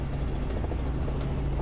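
A helicopter on a sightseeing flight over Cobbold Gorge in Queensland produces a steady, close rotor thrum with rapid blade pulses and engine whine, heard from inside the cabin without talk.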